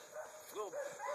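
A small miniature catch dog on a sow hunt gives a few faint, distant yipping barks in a short run, nearly buried under quiet background noise.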